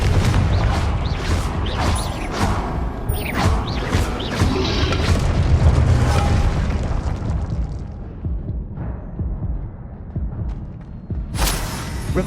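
Repeated booming blasts from the Confringo fire curse in Hogwarts Legacy, loud and close, each heavy explosion trailing into rumbling crashes and debris before a quieter lull and one last sharp burst; no speech is heard.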